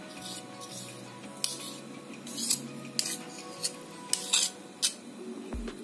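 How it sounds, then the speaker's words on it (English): Metal spoon scooping almond cream for a low-calorie birthday cheesecake, giving several light clinks and scrapes against a bowl or jar, close and fairly quiet over a low steady hum. "Now, we put one spoon of almond cream,"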